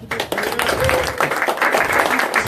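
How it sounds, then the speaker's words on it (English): Steady applause from a crowd, dense and continuous clapping filling the space, with a few voices faintly mixed in. "How about a round of applause?"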